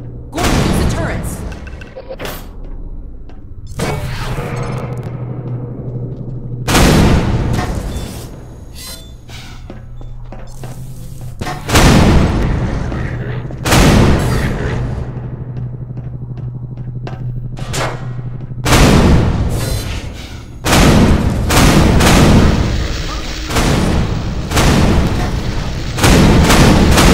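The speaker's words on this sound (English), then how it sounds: "Gordon, use the turrets" Turret gunfire in Half-Life 2, loud booming bursts repeating every few seconds over a continuous noisy game soundscape, with in-game voices in the background.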